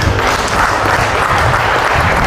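Loud, dense clapping from a church audience in Pandi, Bulacan, a continuous wash of many hands with a faint murmur of voices underneath.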